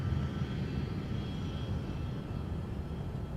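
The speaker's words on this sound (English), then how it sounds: "So here's the 757-300 that is out in front of it, headed to Fort Myers." A Boeing 757-300 airliner sitting out at an airport gives off a steady, broad engine roar and rumble that holds at the same level throughout, with no talking.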